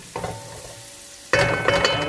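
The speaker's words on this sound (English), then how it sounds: "here we have our onions and peppers heating up in the oil" Onions, peppers and minced garlic sizzle in hot oil in a pan, a steady frying hiss that jumps much louder partway through as fresh garlic hits the oil, with no voice.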